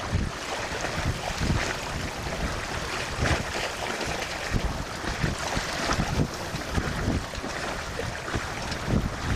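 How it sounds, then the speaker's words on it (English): Sailboat on open water from Lake St. Clair toward Put-in-Bay with both sails up and motor off: soft water ripples lapping at the hull and gusting wind buffeting the microphone, steady and quiet, no talk. "you can hear every little ripple in the water, every little puff of air"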